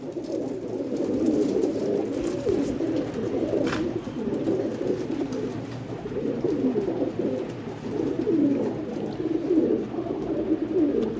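Black China pigeons with reddish eyes coo continuously in a low, rolling murmur, several birds together at close range, loud and steady with no talk.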